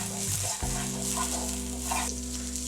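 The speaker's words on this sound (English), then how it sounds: "meanwhile our steak is on a pan" Steak sizzles in a frying pan, a soft continuous crackle over a steady low hum, quiet and without any talking.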